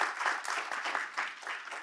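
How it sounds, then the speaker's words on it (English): A short burst of steady audience applause fills the room at a panel session. It stays dense and even throughout, with many hands clapping together and no voices on top. "could you please just clap for him"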